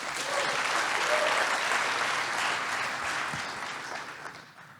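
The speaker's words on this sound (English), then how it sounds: "So let's give him a huge round of applause." Audience at a finance forecast symposium breaking into loud, sustained applause that swells and then gradually fades, with dense clapping filling the room.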